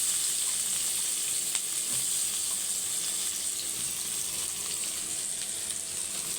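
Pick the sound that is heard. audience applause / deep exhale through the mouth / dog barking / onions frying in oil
onions frying in oil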